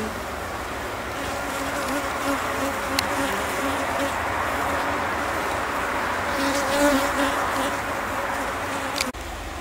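Dense, continuous buzzing of many honey bees around queen cages, a steady droning hum that fills the whole stretch without pause.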